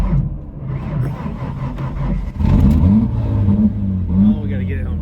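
A Ford Thunderbird Super Coupe with a low battery cranks and catches, its engine revving up and settling into a loud, steady idle, with some speech over it.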